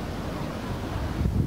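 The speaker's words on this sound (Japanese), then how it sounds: "津波とみられる波が岸壁にぶつかりながら河口から上流に向かって川を遡っていきました。" Tsunami waves strike a quay wall at a river mouth in Itoigawa, Niigata, and push upstream. A continuous rough roar of surging water mixes with heavy wind buffeting the microphone and swells near the end.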